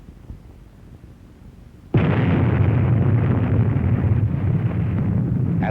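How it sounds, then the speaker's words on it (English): A nuclear explosion blast from an archival film hits abruptly after a quiet start, turning into a loud, sustained roaring rumble with wind-like noise that carries on steadily to the end. "in a nuclear explosion."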